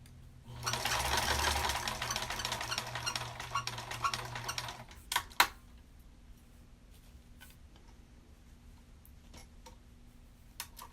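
A sewing machine stitches curves on a plush toy, with a short steady whirring run of about four seconds, then stops, leaving faint clicks and fabric handling sounds in a quiet room.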